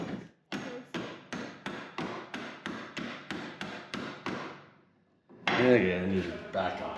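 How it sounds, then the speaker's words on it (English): A punch is struck with a hammer to drive out door hinge pins on a 1970 Chevelle, about a dozen sharp metallic blows in steady rhythm, close and loud, followed by a pause and a burst of clanking shop noise. "Blair's just hammering these out. With a punch, of course."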